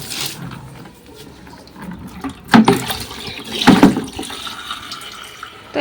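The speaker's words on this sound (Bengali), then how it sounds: "জলটা পুরো বয়ে বয়ে চলে যাচ্ছে পাইপটা লাগাতে বললাম পাইপটা লাগিয়ে দিয়েছে" Water running from a pipe into a bucket, a soft continuous trickle with two louder splashing surges midway, close by and without speech.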